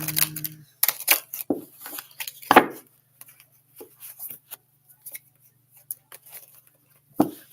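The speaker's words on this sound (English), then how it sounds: "I'm going to give her some shuffles just like I do for everybody." Tarot cards being shuffled during a reading, giving soft papery riffles and sharp card snaps in irregular bursts, close and fairly quiet, with no talking.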